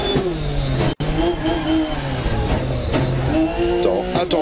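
A Porsche rally car in the racing game Dirt Rally 2.0 revs hard through gear changes, engine pitch climbing and dropping repeatedly, while French pace-note calls and a commentator's voice talk over it.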